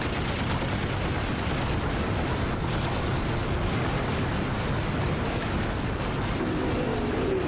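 Enemy guns firing in Ratchet & Clank Up Your Arsenal on PS3, a constant dense roar of rapid gunfire and booming blasts, loud and unbroken for the whole stretch, with no speech.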